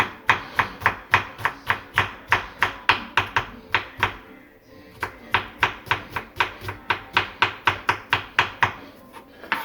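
A knife chops onions on a board in quick, evenly spaced strikes, close and crisp, with a brief pause near the middle before the steady rhythm resumes.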